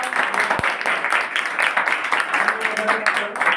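Students at a Navodaya Vidyalaya school in Rudraprayag district clap together, a dense, continuous patter of many hands in a room, with voices mingling in.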